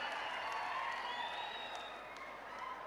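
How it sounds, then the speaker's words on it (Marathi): Crowd applause at a Maharashtra BJP election campaign launch rally in Jat with Deputy Chief Minister Devendra Fadnavis, a steady wash of clapping from a large standing audience that continues throughout without letup. "सगळ्यांनी उभा राहून टाळ्या वाजवून सगळ्यांनी आभार माना"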